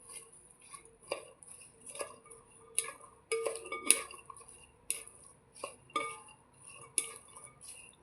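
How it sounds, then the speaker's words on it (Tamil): A spoon stirs a mixture of papaya, grapes, pepper, cumin and salt in a dish, giving soft scraping and repeated light clinks of metal on the bowl, fairly quiet and irregular with no talk. "எல்லாம் நல்லா கிளறி விட்டுட்டு"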